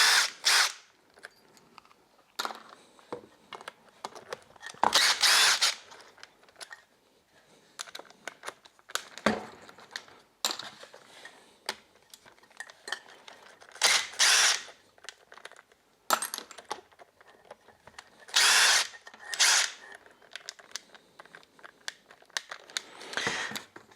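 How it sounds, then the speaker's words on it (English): A power drill works on a Moki 215cc engine, pulling screws during disassembly in short whirring bursts separated by pauses, with clinks of metal parts and handling noises, close by and without talk. "we need to take out the screws at the back."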